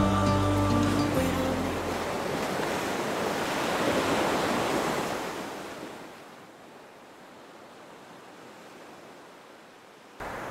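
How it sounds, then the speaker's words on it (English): Ocean waves at Indian Harbour Beach, Florida, roll in as a broad, loud wash of surf that swells and then fades to a quieter hiss, with a brief tonal sound at the start. "Okay, we're down here on the beach."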